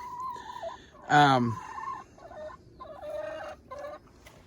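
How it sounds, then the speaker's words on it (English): Young chickens, still keeping some of their chick voices, give thin, high, repeated peeping chirps close by, with one louder, rising squawk in the middle and steady background noise throughout. "they still have a little bit of the chick chirp to them"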